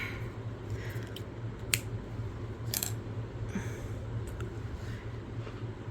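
Scissors snip a few times during a crochet session: two or three short, crisp cuts over a steady low hum in a quiet room.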